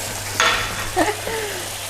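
A pan of mock keşkek with kashar cheese added is stirred, giving a soft scrape and a brief sizzle, with a couple of light utensil knocks against a steady background hum.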